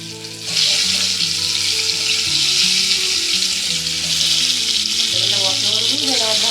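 Stuffed brinjals (bharli vangi) sizzle steadily in a hot pan, a continuous loud frying hiss that swells as pieces are added, with light stirring and background music underneath.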